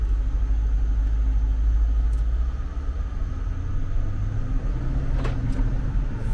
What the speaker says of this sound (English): very, very smooth engine.